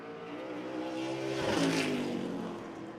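A race car running laps at Jefferson revs and accelerates as it passes, engine pitch climbing and swelling loudly at mid-pass before fading, with steady harmonic whine throughout.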